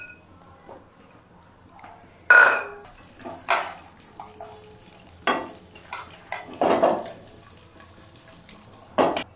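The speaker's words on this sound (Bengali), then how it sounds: "কাজুগুলো অল্প ঘিয়ে ভেজে নেব আমি।" Cashews frying in a little ghee, with scattered bursts of stirring and scraping against the pan over a low, quiet sizzle, several louder clatters spaced irregularly.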